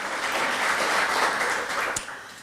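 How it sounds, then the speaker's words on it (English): Attendees at a community coalition leadership breakfast give a short burst of applause that swells, holds, then fades out within a couple of seconds. "so we can give you a round of applause"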